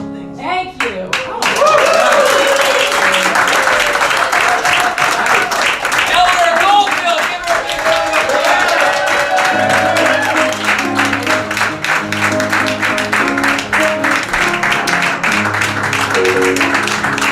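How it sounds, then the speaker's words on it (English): Sustained clapping and cheering from a crowd at a comedy show in Washington DC, loud and dense, with music and voices mixed in underneath. "Steve Jones, give him a round of applause."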